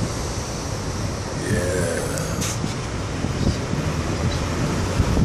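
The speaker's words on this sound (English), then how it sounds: "Look at those waves." Ocean waves wash steadily along a cold shore, a constant broad roar mixed with wind buffeting the microphone; a person speaks one brief word.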